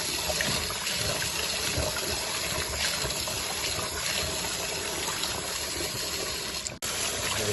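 Rice is washed under running water from a tap while cooking Jamaican brown stew goat; a steady, close gush flows without a break before cutting off abruptly near the end.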